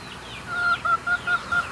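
A chicken in Cambodia makes four or five short, evenly spaced clucks up close, with a light background hiss.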